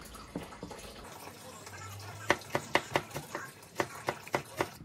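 Squid is sliced with a knife on a cutting board for a seafood pancake, with a run of about ten crisp, evenly spaced chops, close and distinct, following a short stretch of softer kitchen sounds.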